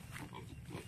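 Low, rough grunts from a pig kept on a farm, repeated in a short irregular series close by with a little background noise.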